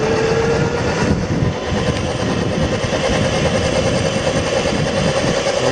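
A Razor E200 electric scooter fitted with a 350W ZY1016 motor accelerating on a road, a continuous loud whine and rumble with rising motor tone and steady road noise throughout.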